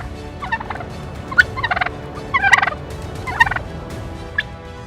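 A male wild turkey gobbles in several rapid, rattling bursts spread across a few seconds, fairly close and clear over a steady low background hum, with no voices.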